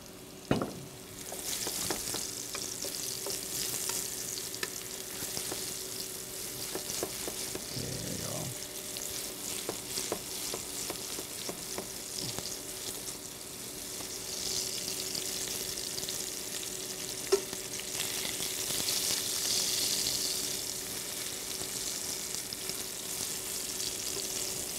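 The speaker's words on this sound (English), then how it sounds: "I'm just gonna saute some of these mushrooms in here" Mushrooms sauté in a pan for coq au vin, a steady, sustained frying sizzle that swells and eases over time, with occasional stirring scrapes and a brief knock.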